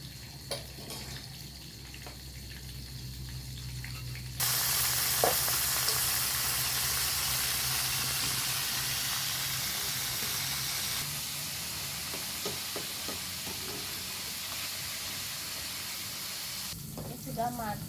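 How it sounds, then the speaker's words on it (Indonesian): Salted fish fries in hot oil without batter, a steady broadband sizzle that jumps louder partway through and holds, with faint clinks and small pops over it. "Ini ada yang digoreng biasa ya,"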